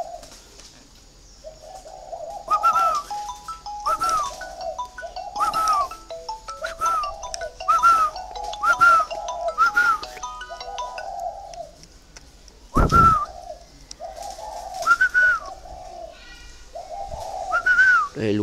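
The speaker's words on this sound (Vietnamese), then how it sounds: "Đây là cái hiên mình bắn ở đây để mình treo phong lan và nuôi chim cu gáy." A caged spotted dove on a veranda coos clearly and close by, repeating its phrase at a steady pace with short pauses between calls. A single sharp knock cuts through partway.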